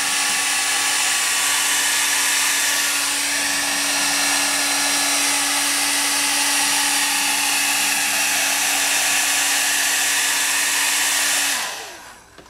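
A heat gun blows steadily at close range while 3M tape is slowly pulled off a part during a Yamaha FZR motorcycle restoration, a constant whirring hiss with a faint hum that runs for about eleven seconds before cutting off.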